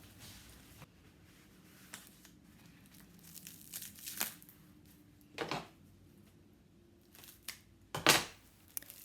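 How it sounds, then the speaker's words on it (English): Scissors snip and crinkle through plastic wrap covering the end of a roll of upholstery fabric, a few quiet scattered cuts and rustles with louder sharp snips near the end, no talking. "you're just going to snip very carefully to remove that plastic wrap"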